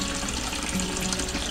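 Water pours steadily into a bath being prepared for salting fresh cheese, a close, even splashing stream with no voices.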